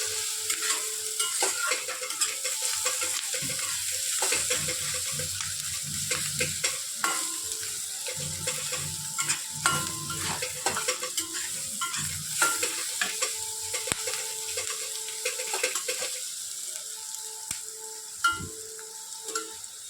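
Onions fry in oil with Kashmiri chilli powder, a constant close sizzle broken by frequent scraping and clicking of a spatula stirring the pan, with no voices.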